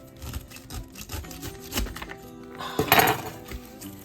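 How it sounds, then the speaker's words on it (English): A knife chops up a pineapple for canning, giving irregular woody knocks against a cutting board with a louder cluster of cuts near the end, close by and with no talking. "the hardest part of this whole process is chopping up the pineapple."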